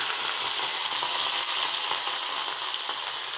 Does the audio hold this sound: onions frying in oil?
yes